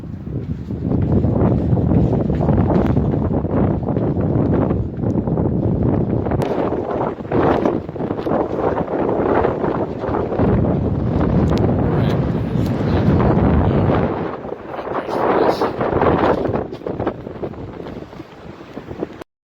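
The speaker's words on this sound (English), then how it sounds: "The wind's blowing pretty good and it's snowing" Strong wind roaring across a snowy mountain top, heavy rumbling gusts buffeting the microphone almost without a break, easing slightly near the end.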